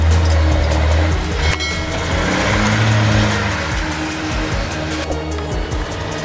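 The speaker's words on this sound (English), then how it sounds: "The heavy logging truck roared loudly as it tried to climb the snow-covered slope." A heavy logging truck with chained wheels labours up a snow-covered slope in a forest, its big engine roaring loudly and steadily throughout with a deep low rumble and some revving surges.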